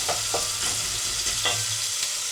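Onions frying steadily in a pan for a home-cooked Kenyan meal, a continuous close sizzle with a few brief scraping stir strokes, no voices.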